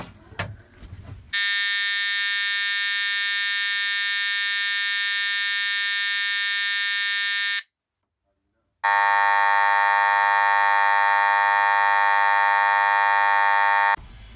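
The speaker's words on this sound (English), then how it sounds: "So now for the horn strobe test." An Edwards EST fire alarm horn strobe blares a loud, steady electronic tone for about six seconds, pauses briefly in silence, then sounds again at a slightly different pitch before stopping abruptly.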